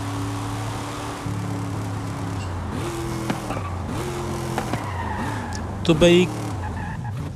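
A red Chevrolet Camaro Z28 race car in Forza Horizon 5, its engine note stepping up through gears with brief tire squeals near the end, while someone talks over it.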